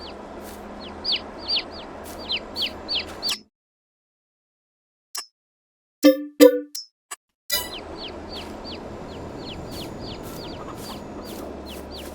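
A rooster clucks in a farming video game, sounding in a few short repeated bursts that break off into silence and then resume with a brief call.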